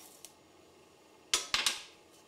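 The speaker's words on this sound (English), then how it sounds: "Add the green peas." Green peas tipped into a pressure cooker pot of Bengali mung dal land as a quick burst of three or four bright, clattering hits after a quiet stretch, close and fairly loud.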